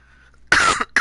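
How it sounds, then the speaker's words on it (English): Two loud, close, chesty coughs from a man follow a moment of near silence with a faint hum. "I do apologize for the cough"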